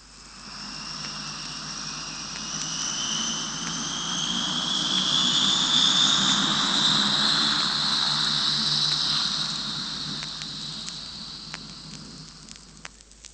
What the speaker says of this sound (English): That was a Viscount, the first jet prop airliner in the world.